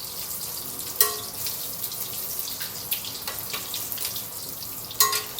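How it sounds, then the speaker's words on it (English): Fish frying in oil in a stainless steel wok, a steady hiss with faint crackle and a few sharp clinks of a utensil against the metal, heard alone without talk. "Why I like to use stainless steel wok to fry fish is because stainless steel wok will actually manage to transmit higher"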